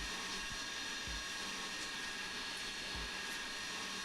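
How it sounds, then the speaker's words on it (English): A USAF C-17 Globemaster military cargo plane's engines give a steady, even roar with a constant whine, with a few soft low thumps and no talk. "Has that plane been way too loud, by the way, in the audio mixing?"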